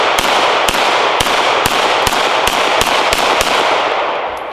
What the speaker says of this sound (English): All of the pistols we're shooting today are 9mm